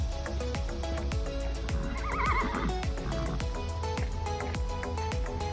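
Several horses whinny and neigh repeatedly on a farm, with a couple of long high calls rising over steady hoof movement and shuffling near the pasture gate, no talking.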